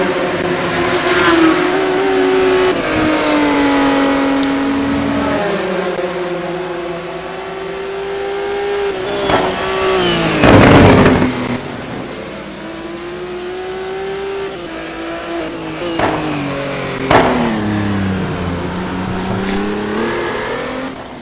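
An Aston Martin GT1 race car engine roars in a racing video game at Interlagos, rising and falling through repeated loud revving sweeps with gear changes and short bursts of tire squeal over about twenty seconds.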